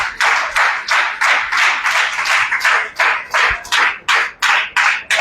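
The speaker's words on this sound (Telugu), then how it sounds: "కొట్టు చప్పట్లు గట్టిగా" A congregation at an Ash Wednesday church sermon claps loudly in rhythmic unison, about a dozen and a half sharp, evenly spaced beats close by, with no talk.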